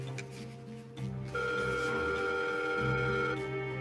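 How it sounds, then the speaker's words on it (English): A telephone ringing tone sounds through a handset, a steady electronic tone holding for about two seconds over a faint background hum. "Okay, it's ringing."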